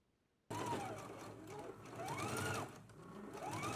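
A sewing machine stitches a back facing onto a back garment piece, running steadily and close by for several seconds after a sudden start, its whirring motor rising and falling slightly in speed.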